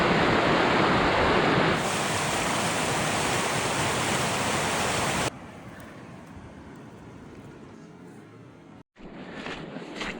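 A waterfall roars as a dense, steady rush of water in a boggy Scottish Highland glen, loud at first, then dropping abruptly to a quieter, more distant wash.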